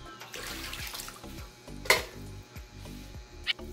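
Water pours into a bowl of pizza dough mixture, a soft running trickle with a couple of sharp clinks from a utensil or dish against the container.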